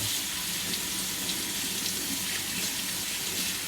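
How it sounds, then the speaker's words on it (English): Cold water runs steadily from a kitchen tap into a sink, a constant close splashing rush with no pauses or voices. "turn on your cold water."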